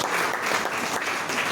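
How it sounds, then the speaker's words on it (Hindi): Congregation at a Sunday church service clapping hands together in steady, dense applause, a continuous crowd patter that holds throughout with no voices. "ताली बजाओ, ताली बजाओ,"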